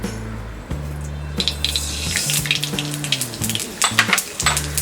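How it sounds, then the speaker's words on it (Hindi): Mustard seeds are dropped into hot oil in a pan and sizzle and crackle with scattered popping bursts over a low steady hum, growing busier toward the end, with no talking. "पैन में डालेंगे 1 और टेबलस्पून ऑयल। इसमें डालेंगे ये राई"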